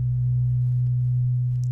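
A pure, steady synthesizer sine tone holds at one low pitch, loud and unwavering, from a modular synth, with a faint chirp near the end.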